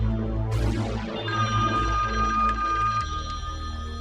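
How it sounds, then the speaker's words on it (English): A telephone rings in the 1984 horror film A Nightmare on Elm Street, a sustained electronic bell tone that shifts pitch partway through over a low droning film score, fairly loud and clear. "he keeps ringing this phone"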